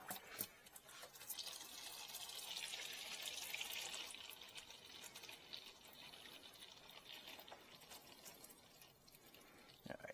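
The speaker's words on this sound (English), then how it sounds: "Alright, so it's draining out pretty good." Transmission fluid draining from a 2016 Hyundai Sonata 2.4L into a catch pan, a faint continuous splashing gush with occasional drips and small knocks, steady throughout.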